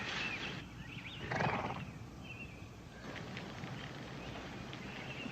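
A horse team pulling a wagon, hooves clip-clopping faintly at a distance under ambient outdoor noise, with a brief louder rumble and some high chirping calls.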